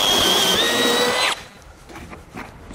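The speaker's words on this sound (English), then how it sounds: "We're going to go ahead and drill these holes here." A power drill boring holes in a 2020 Ford Escape bumper for a base plate kit whines loudly at high speed, its pitch rising briefly, then cuts off abruptly, leaving quiet background noise.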